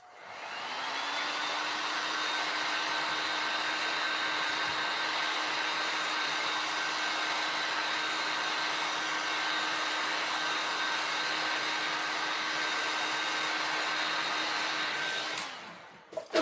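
A hair dryer blows steadily at close range for about fifteen seconds, drying a craft project, with a constant whine over a broad airy rush before clicking off at the end.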